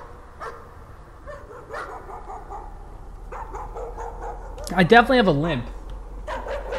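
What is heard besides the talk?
dog barking in video game Layers of Fear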